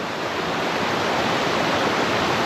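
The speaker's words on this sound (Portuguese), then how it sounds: "essa quedinha d'água aqui deu até uma emoção" A small waterfall along a hiking trail rushes steadily, a loud, dense wash of falling water that fills the scene without pause.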